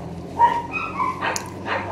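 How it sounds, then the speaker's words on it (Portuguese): Neighbors' dogs bark and yip a few times at moderate distance, short uneven calls over a low background hum, with no talking. "Tem os cachorros latindo, os vizinhos, os cachorros."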